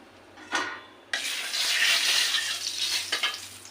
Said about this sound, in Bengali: তেলটা একটু গরম হয়ে এসেছে, আমি তেলের মধ্যে একটু হলুদ